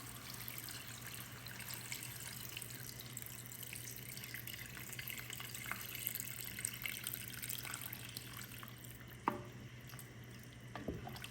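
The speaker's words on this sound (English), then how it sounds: "Let's add the water." Steady running water from a tap pours into a cooking pot holding eight to ten potatoes, a continuous moderate splashing wash with a couple of brief clinks near the end.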